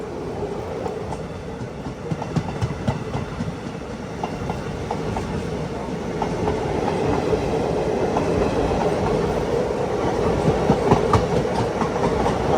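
A Central Railway Dhanbad–Kolhapur train rolls slowly past, a steady broadband rumble with repeated clickety-clack wheel beats over the rails, growing slightly louder and closer toward the end.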